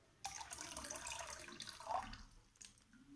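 Water gurgles and rushes into a plastic bottle held submerged in a container of water as trapped air escapes, a steady close splashing flow with a brief bubbling burst near the middle.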